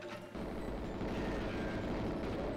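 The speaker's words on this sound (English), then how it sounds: "Everything explodes with such slow vigor." An explosion in the GoldenEye 007 video game, a sudden low rumbling blast that holds as a dense, sustained roar.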